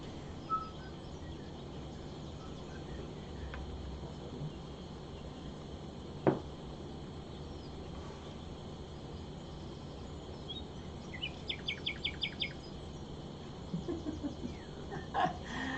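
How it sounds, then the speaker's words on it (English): Ambient birdsong played during a game of the Wingspan board game: scattered chirps and rapid trilled bursts over a steady background hum, fairly faint, with no talking. "I love the ambient bird sounds."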